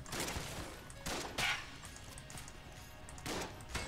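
Rapid gunfire and impact crashes from the top-down shooter game Enter the Gungeon form a dense, busy barrage of repeated shots that keeps going throughout.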